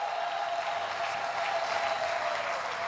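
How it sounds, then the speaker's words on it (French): A church congregation applauds at a service, a steady, dense wash of clapping from many hands that holds evenly throughout, with a faint sustained tone underneath. "Alors nous acclamons pour lui."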